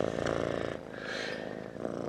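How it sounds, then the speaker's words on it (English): Kittens purring close to a microphone, a soft, continuous low rumble that swells and eases in steady breaths over two seconds. "You can hear them purr into the mic."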